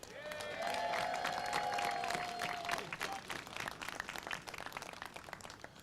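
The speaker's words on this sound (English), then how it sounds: "let us hear a big round of applause for our mayor" A crowd applauds the mayor at an outdoor public-square Chanukah celebration, dense clapping sustained for several seconds, with a tonal whistle or cheer gliding across the first half before the applause thins toward the end.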